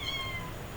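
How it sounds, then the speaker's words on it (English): A pet cat meows close by, its brief call standing out over a low indoor background hum. "sorry about my cat. He's wanting some attention or something."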